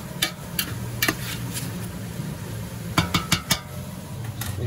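A spoon stirs sweated vegetables in a pot for a Basque veal axoa with Espelette peppers, giving several sharp clinks against the pot over a soft low simmer, with two quick knocks early and a cluster of scrapes near the end.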